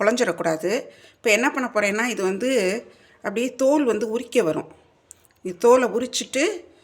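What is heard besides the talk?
No everyday noise stands out behind the speech.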